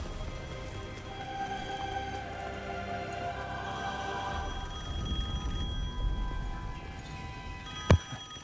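A telephone rings in the Devil May Cry 5 video game, a steady ringing tone over game ambience, ending with a sharp loud hit.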